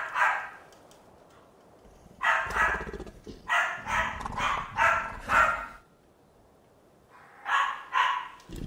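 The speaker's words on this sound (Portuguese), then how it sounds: "Fica quieta, cachorra, meu Deus do céu!" Pet dog barking in repeated bursts of sharp, fairly close barks with short pauses, indoors at moderate loudness, no voices over it.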